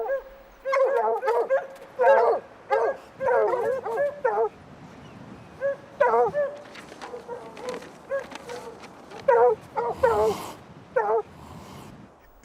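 A pack of hunting dogs barks and yelps excitedly in bursts while chasing a cougar in Yellowstone National Park, some calls high and whiny, nearby and fairly loud outdoors.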